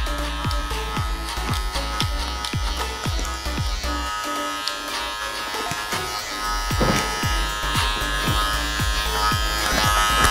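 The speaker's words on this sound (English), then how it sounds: "Clip over comb." Close, loud electric hair clippers buzz steadily while cutting hair over a comb during a low mid skin bald fade, with rapid repeated snipping strokes through the hum.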